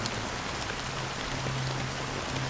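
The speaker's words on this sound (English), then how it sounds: "This rain went on, though." Steady rain falling on a surface, a dense even hiss with a low hum beneath it, continuous and moderately distant with no voices.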